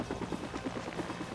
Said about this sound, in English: This helicopter pathing is completely RNG, which is super frustrating.